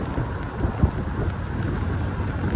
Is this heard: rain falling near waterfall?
yes